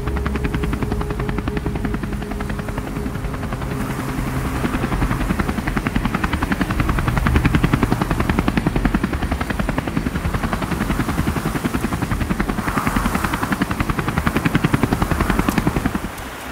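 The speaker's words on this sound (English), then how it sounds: "A chopper arrived to deliver supplies to the monks that live at the monastery." A helicopter's rotor thumps steadily and loudly throughout as it arrives at Tengboche monastery in Nepal, a dense rhythmic chop that swells slightly in the middle and toward the end.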